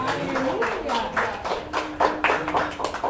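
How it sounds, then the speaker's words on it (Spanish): A congregation applauds during a Shabbat teaching, with sharp hand claps rising in uneven bursts. A sustained tone and a voice sit beneath the fairly close clapping. "Dale un aplauso a Yahshua y a Mashiach."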